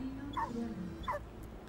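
Puppies up for adoption give two short, high whimpering yelps about a second apart, faint over a steady background hum.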